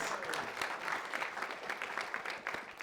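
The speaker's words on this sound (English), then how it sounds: "Big round of applause." A lecture room full of people claps steadily throughout, a dense patter of applause at moderate volume with no single voice standing out.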